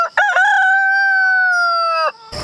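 A rooster crows once, loud and close, on a pastured egg farm with a layer flock, the long sustained call ending in a brief burst of scratchy farmyard noise.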